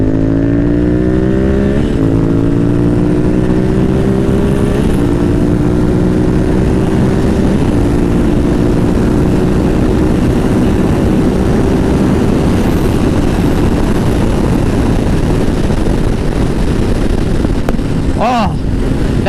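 A motorcycle on an open road near Bandimere Speedway accelerates hard, its engine note climbing through the gears in a loud, sustained roar with rising pitch sweeps and heavy wind rush throughout.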